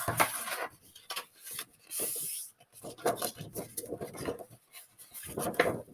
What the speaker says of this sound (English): So let's fold and burnish all our lines.